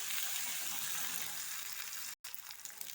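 Onion sizzles in a hot pan with ginger-garlic paste and green chillies, a steady hiss filling the scene, with a brief silent gap near the end before the frying noise resumes.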